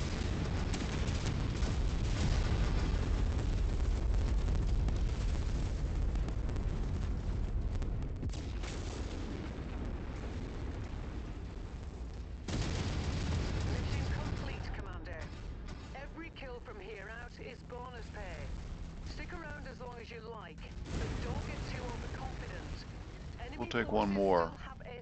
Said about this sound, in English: This is nothing but my weapons group 2, which is the burst fire and the heavy cannon